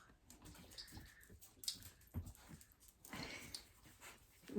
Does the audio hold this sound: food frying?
no